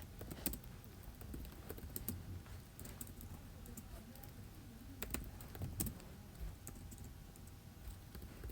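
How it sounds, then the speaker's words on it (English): Fingers tap on a computer keyboard in quick, uneven bursts of soft clicks, close up and quiet, with short pauses between runs. "I'll just type it in on here."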